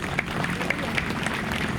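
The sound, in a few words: congregation applause in church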